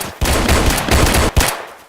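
Rapid automatic gunfire in a Roblox shooting game, loud close bursts of tightly packed shots with a brief break near the end before one more burst trails off.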